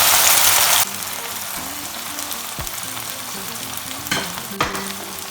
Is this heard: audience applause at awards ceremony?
no